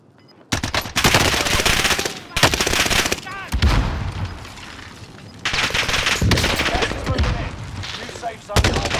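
Rapid bursts of automatic gunfire and loud shots in the Warzone Pacific video game, with intense volleys separated by short pauses and a voice speaking between them.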